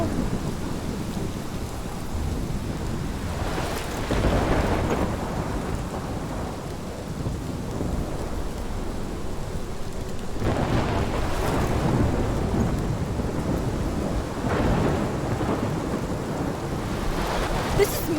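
A video game thunderstorm with heavy rain pours steadily while deep rolling thunder swells in three long waves, with gusty wind rumble throughout.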